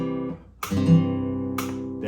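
Guitar chord inversions played on the bottom three strings during practice, two strummed chords ringing out one after another, close and clear with no talking.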